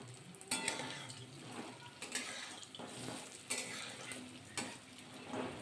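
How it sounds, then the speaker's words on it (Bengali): Lentil fritters fry in hot oil with a constant crackling sizzle, while a utensil stirs and turns them with periodic scraping clinks against the pan. "নাড়াচাড়া করে কিন্তু ভালোভাবে কিন্তু ভাজা করে নিয়েছি বড়গুলো।"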